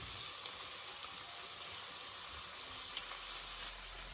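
An orange slice sizzling in a pan alongside roasting quails with cinnamon, a soft, even frying hiss that runs steadily without talk, faint and continuous throughout.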